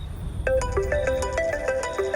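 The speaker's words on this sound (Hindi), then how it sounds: "पापा का फोन इस टाइम पे?" A melodic phone ringtone for an incoming call at night, playing a repeating pattern of bright electronic tones alone, close and clear.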